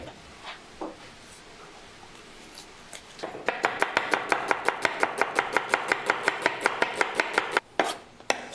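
Knife slicing an onion on a cutting board: a few scattered cuts, then a fast, even run of about twenty crisp chops close by, a brief pause, and a couple more.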